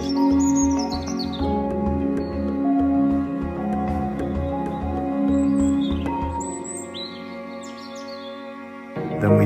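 Birds chirp and tweet high overhead in the rainforest canopy exhibit of a Baltimore aquarium, their calls scattered over a constant indoor hum and murmur that fills the space throughout.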